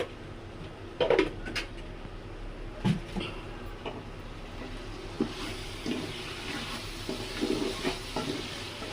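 Chicken with chili powder frying in a home kitchen pan, a faint low sizzle under occasional stirring scrapes and clinks of a spoon against the pan.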